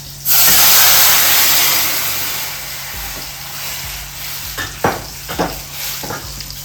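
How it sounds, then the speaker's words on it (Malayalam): Rasam poured into a hot pan: a sudden loud hissing surge as the liquid hits, easing into a softer steady sizzle, followed by a few sharp clanks and stirring knocks. "നമ്മളിപ്പോൾ ഇതിനകത്ത് റെഡിയാക്കി വെച്ച രസം അതിനകത്ത് ഒഴിച്ചു കൊടുക്കേ"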